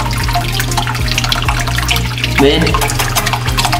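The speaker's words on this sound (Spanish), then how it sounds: "Ya le pusimos aquí su filtro y todo para que se mantenga más limpia su agua por más tiempo" Water filter in a young tegu's tank, giving a loud, constant splashing trickle close by with a steady low hum underneath; a voice speaks briefly over it.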